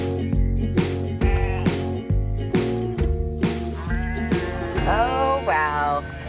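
Sheep on a farm in St. Croix bleat repeatedly and loudly at close range, several overlapping calls in quick succession, with no one speaking over them.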